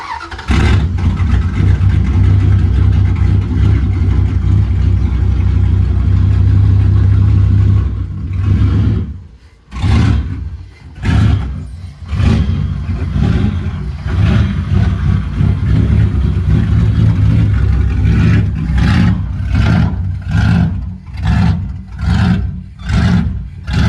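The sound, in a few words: car engine running after starting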